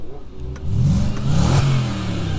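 A modified car engine revs at a Japanese car show, rising in a couple of loud, close throttle blips that swell and hold, with crowd murmur faintly underneath.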